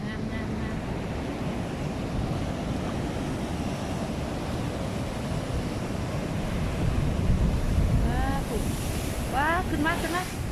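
Sea waves wash steadily onto the shore in a continuous broadband roar with wind noise on the microphone, swelling louder toward the end, with faint bird-like chirps near the close.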